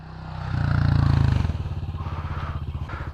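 A dirt bike motorcycle engine runs in second gear, a loud steady rumble that swells and then settles into a rapid pulsing putter, close by.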